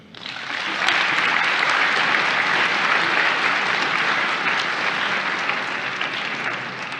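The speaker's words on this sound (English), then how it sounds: "Let's give them all a round of applause." Audience applauding honorees at a distinguished alumni event, a steady, full round of clapping that swells quickly and holds for several seconds, slowly tapering at the end.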